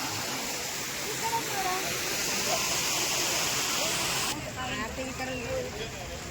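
Steady roaring flow of water at the KRS dam during its night water show, heavy and continuous, with people chatting loosely over the rush.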